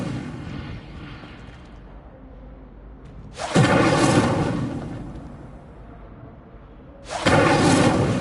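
Two bursts of a fire spell being cast in the Hogwarts Legacy video game, each a loud whooshing roar that swells suddenly and then fades, separated by a quieter rumbling background.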